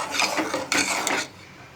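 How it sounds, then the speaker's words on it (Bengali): Firni is stirred steadily in a pot after sugar goes in, giving a close, continuous scraping rasp in two short strokes before it fades to quiet. "চিনি দেওয়ার পরে অনবরত নাড়তে হবে।"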